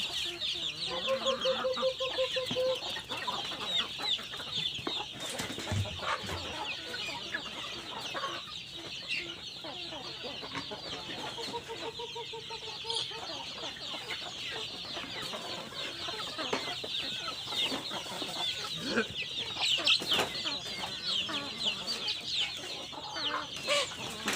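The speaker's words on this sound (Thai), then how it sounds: "เราจะมาให้อาหารไก่กันนะครับวันนี้" Free-range backyard chickens at feeding time, clucking and cackling in short repeated bursts over a constant high insect-like drone, with a rooster-like call now and then in the background.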